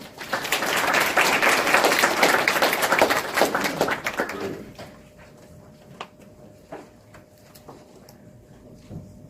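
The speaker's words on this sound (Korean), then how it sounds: "큰 박수로 맞이해 주시기 바랍니다" Audience applause at a Seoul forum on food and drug safety, welcoming a speaker from a cosmetics research lab: dense clapping for about four seconds, then tapering to a few scattered claps and quiet room noise.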